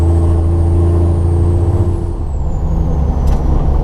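A Land Rover Defender with an M57 diesel engine and a straight-pipe exhaust straight off the turbo, heard from inside as a loud, continuous low rumble with a high turbo whine that falls away midway as the engine note shifts.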